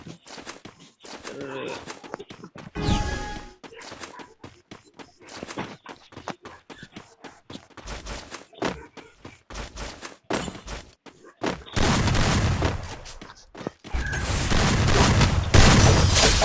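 Gunfire in a mobile shooter video game, with bursts of rapid shots and booming hits in uneven clusters, growing denser and louder toward the end, along with some talking.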